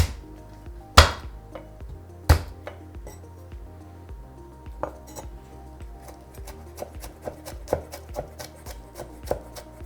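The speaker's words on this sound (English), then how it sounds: "So I just de-seeded the whole red chili, so I'm just going to use my knife." A knife chops a de-seeded red chili for a chermoula marinade. A couple of loud initial whacks are followed by a steady, rapid run of close, crisp chops on a board.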